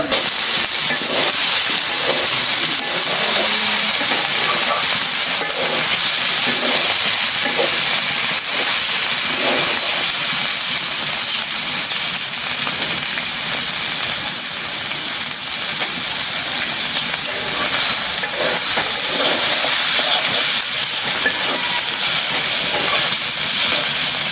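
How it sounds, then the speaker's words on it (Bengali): Food fries in a pan with a steady, dense sizzle and hiss that runs loud and unbroken throughout, close to the listener. "ভাজিটা হয়ে গেছে একদম ভাজা ভাজা করে দিলাম"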